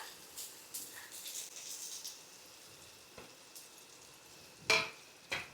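Onions frying in hot oil in a pan for a mud crab sukka, a soft steady sizzle with stirring noises and a few sharper scrapes near the end, moderately close and without talk.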